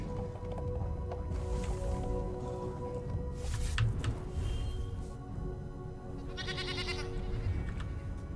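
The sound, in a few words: goat bleating in a card video game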